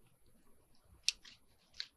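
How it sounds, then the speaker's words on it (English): Scissors snip through chipboard during a paper-craft embellishment project, giving two or three quiet, crisp cuts close by with a hushed room around them. "It's not going to let me have it without scissors."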